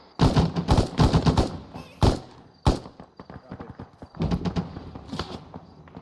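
Rapid bursts of gunfire crackle during a raid training exercise, then a sharp rocket impact bangs out, followed by more sustained firing, loud and close with a voice over the shooting.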